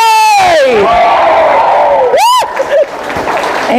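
A church congregation claps and cheers loudly at a Sorsogon worship gathering, a dense burst of applause mixed with high whoops and shouts that swells, dips briefly, then carries on.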